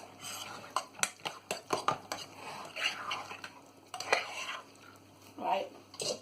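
A curry loaf mixture is stirred in a bowl with a utensil, making rapid irregular scrapes and clinks against the bowl, close and fairly quiet.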